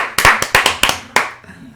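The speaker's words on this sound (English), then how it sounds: "Keep clapping, keep clapping." Hands clap quickly and unevenly, a loud burst of about eight close claps that stops, leaving a quiet tail with faint background murmur.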